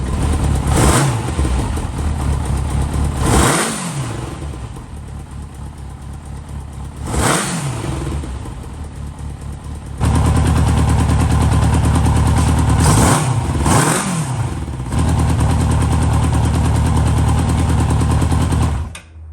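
A Honda CB900 Custom motorcycle engine idles roughly and unevenly, close by and loud, with several brief blips of revving and a steady, uneven running rumble throughout, no talking.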